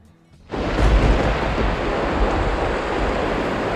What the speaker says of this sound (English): A little bit different walking out in the middle of a thunderstorm.